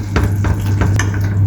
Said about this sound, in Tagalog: Ngayon, haluin natin para matunaw yung ating asin.